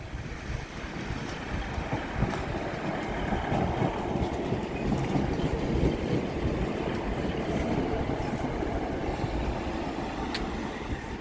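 Class 150 diesel unit 150 222 rolls past at Doncaster station, a continuous broadband rumble and rattle of wheels with wind buffeting on the microphone, close and steady throughout.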